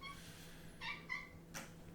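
A house cat meows several times, short separate calls spread across a couple of seconds over a faint steady indoor hum, fairly close but quiet.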